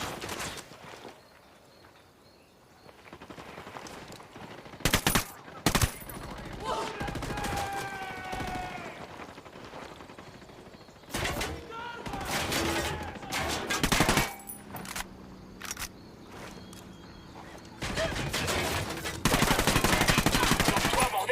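Gunfire in the video game Ghost Recon: bursts of automatic fire and single shots crack loudly between quieter stretches, mixed with footsteps, game effects and occasional talk.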